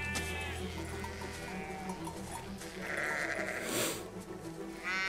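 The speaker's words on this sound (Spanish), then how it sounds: "Caminar entre ovejas." Sheep bleat in the World War I video game Valiant Hearts: The Great War, several wavering cries from a flock, loud and close, some overlapping, over a steady music and ambient bed.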